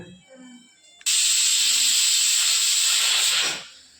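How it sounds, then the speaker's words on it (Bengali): A pressure cooker cooking rice lets out one loud, steady steam whistle that starts abruptly, holds for about two and a half seconds, then fades away. "এখন আমাদের কিন্তু একটা সিটি বেজে গেছে, মানে ভাত কিন্তু হয়ে গেছে"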